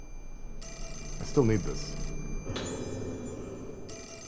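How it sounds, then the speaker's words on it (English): A telephone rings inside the Fatal Frame IV horror game, its bell tone sounding in repeated bursts with pauses between them while someone talks over it. "I guess we're just going to listen to the phone ring while I read this."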